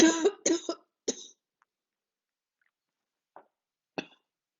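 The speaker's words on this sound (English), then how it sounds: "little coughing spell there" Someone coughs in a quick burst of three harsh coughs, then after a pause gives a few fainter single coughs.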